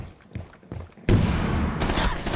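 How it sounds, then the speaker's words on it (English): Gunfire in the video game Rainbow Six Siege, a few scattered muffled shots followed by a sudden loud sustained burst of rapid fire, close and intense. "I don't think shots go through this."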